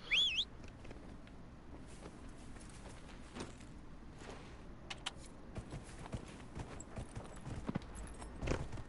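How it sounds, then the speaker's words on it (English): Faint horse hooves clip-clop at a walking pace in the background of the video game Dragon Age: Inquisition, soft and irregular, with a few quiet chirps at the start. "let me call my horse."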